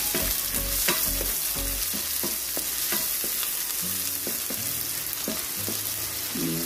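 Garlic and onions fry in a pan for beef broccoli, a constant close sizzle broken by frequent scraping stirs and clinks of the utensil against the pan.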